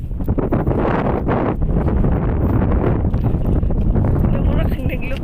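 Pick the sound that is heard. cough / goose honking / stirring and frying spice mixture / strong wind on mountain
strong wind on mountain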